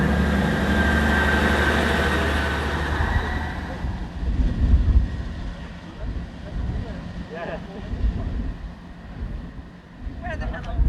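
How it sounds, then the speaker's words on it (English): Heavy wind buffets the microphone in a loud, rumbling roar at a train station beside the Northumberland Line, easing slightly partway through, with faint voices beneath. "It's windy, isn't it?"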